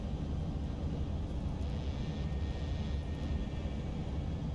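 Steady, broad engine roar of a Turkish Airlines Boeing 737 airliner on manual approach to landing, heard from inside the cabin as a constant rumbling drone with no voices.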